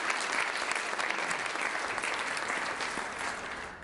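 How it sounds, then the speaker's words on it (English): Steady, moderately distant audience applause at an annual meeting, a dense even wash of clapping that carries on for a few seconds without speech. "You guys are all clapping today, so thank you."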